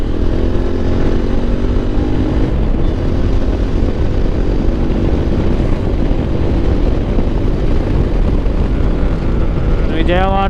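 A motorcycle rides along a highway near Shamshabad on the way to Vijayawada, a loud continuous engine drone blended with wind rush, steady throughout, with a brief voice near the end.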